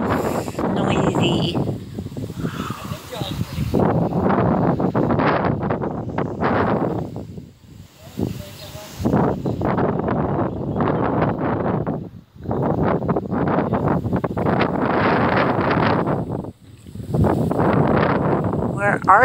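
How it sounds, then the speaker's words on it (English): Wind buffets an outdoor microphone in long, loud gusts of low rumbling noise, broken by a few brief quiet gaps, while a person talks over it. "Sorry if it's windy, it really is noisy."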